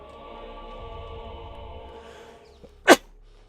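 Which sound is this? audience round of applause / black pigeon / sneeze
sneeze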